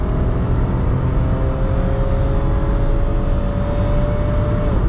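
A Daihatsu Cuore L701 small hatchback pulls away hard after a kick-down, its engine note climbing steadily and loud inside the cabin with a rising tone and no one talking.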